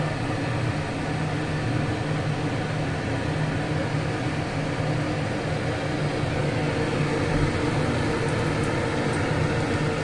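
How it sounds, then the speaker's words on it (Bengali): Vegetable chops frying in hot oil over low heat give a steady, even sizzle that holds without a break for the whole stretch, with no voices over it. "তেল গরম হয়ে গেছে, এরপর চপগুলো ছেড়ে দিই।"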